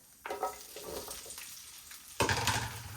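Peppers and onions sautéing in a pan for Cuban ropa vieja: a steady soft sizzle, with a louder burst of frying and stirring partway through as the vegetables are moved around, and no talking.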